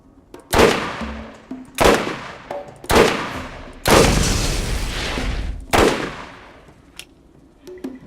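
A Dahl SMG in Borderlands 1 fires through a magazine in five separate loud bursts, the fourth a longer sustained stream of rapid shots, with short gaps and a faint game ambience between them.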